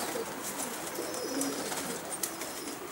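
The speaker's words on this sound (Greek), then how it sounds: "Είναι περιστέρια τα οποία θα μας δώσουν τα καινούργια περιστέρια." Pigeons cooing in a breeding loft of selected mated pairs, soft low coos repeating in the background among faint rustling and a few brief higher chirps, steady and moderately close.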